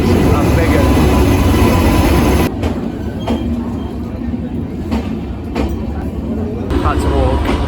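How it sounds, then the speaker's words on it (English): Big passenger train pulling into a station platform in India, a heavy loud rumble of wheels and carriages rolling past close by that eases partway through, with clanks and squeals and people talking nearby. "This is our train coming in, and it is a big one."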